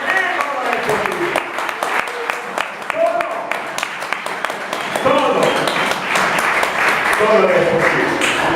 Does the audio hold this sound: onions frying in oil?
no